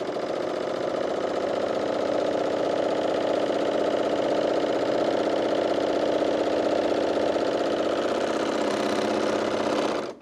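A sewing machine runs without pause for about ten seconds while stitching a side seam, a dense steady motor hum with rapid needle chatter, close and loud, stopping abruptly at the end.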